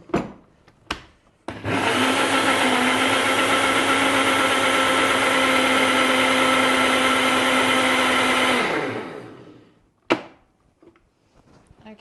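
A blender roars loudly and steadily for several seconds blending leaves and water, then winds down and stops, with a few clicks and knocks before and after.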